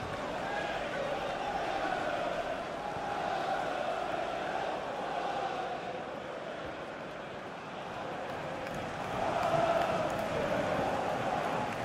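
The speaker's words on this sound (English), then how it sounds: "just listen to the Liverpool fans" Liverpool supporters in a FIFA 21 Premier League match against Manchester City roar steadily throughout, a dense continuous stadium crowd swelling louder near the end.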